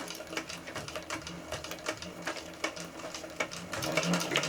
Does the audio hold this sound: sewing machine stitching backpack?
yes